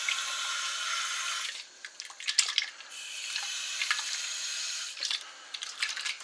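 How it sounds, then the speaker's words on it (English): Tap water runs steadily into a warm cooking pan during lamb curry preparation, broken by short splashing and dripping pauses, close and fairly quiet. "I'm just going to give that a wee rinse, a small rinse of water,"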